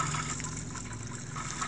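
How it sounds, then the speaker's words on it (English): Bubbling, watery kitchen sound from french fries boiling in the Toca Kitchen video game. It is a steady, continuous liquid wash across the short moment. "We're gonna boil this french fries."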